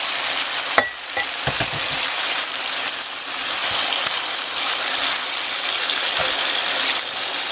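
Marinade sauce for pork humba goes into a hot pan, setting off a loud, continuous sizzle and crackle with a few faint scraping taps.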